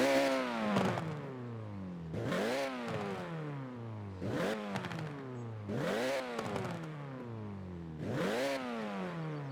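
A Renault Clio RS 197 engine revving up and down repeatedly in Forza Horizon 4, five rising and falling surges in a steady rhythm, fairly loud with no talking.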